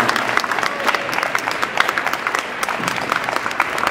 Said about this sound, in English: Just give him a round of applause.